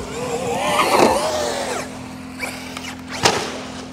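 A Traxxas XRT RC truck whines and revs as it speeds up, then its motor note drops away before a sharp thump near the end as it lands a jump, heard close with no talk.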